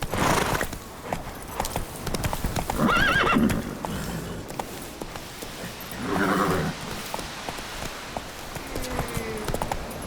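Horse hooves clip-clop steadily in The Witcher 3 video game, with a couple of loud neighs and whinnies breaking through partway and a faint mechanical clink near the end, no voices.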